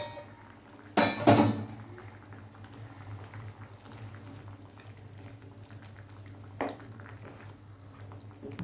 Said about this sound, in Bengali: এবার এর মধ্যে ভেজে রাখা মাছটা দিয়ে দেবো।